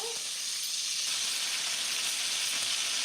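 Scallops searing in a hot pan of butter mixed with oil give a steady, close sizzle and hiss that holds evenly throughout, with no talk.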